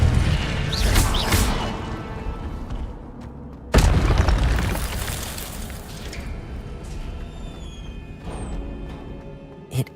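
A fire spell cast in Hogwarts Legacy gives a loud booming blast at about four seconds over continuous game battle noise, with a smaller pop near the end.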